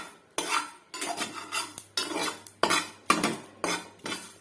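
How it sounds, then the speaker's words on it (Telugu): Curry leaves and cumin roasted in a hot pan with the heat switched off: repeated scraping strokes of a spoon against the metal pan in a steady rhythm, close and fairly loud, no talk. "కరివేపాకు, జీలకర్ర వేయించేస్తున్నాను."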